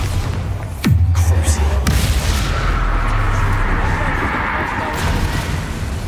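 A Bombarda spell explosion from the video game Hogwarts Legacy bursts loudly near one second, with a sweeping boom and then a lingering low rumble and game ambience.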